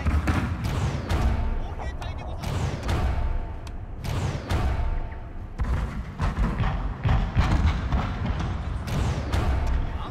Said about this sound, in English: Our cannons are firing.